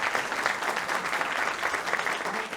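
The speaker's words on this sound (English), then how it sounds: "Let's give him a round of applause" An audience at a Head Start ribbon cutting ceremony at 950 Broadway applauds Mayor Byron Brown, a steady wash of many hands clapping at moderate loudness, with no speech over it.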